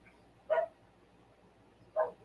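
Two sharp dog barks, about a second and a half apart, fairly close against a quiet background.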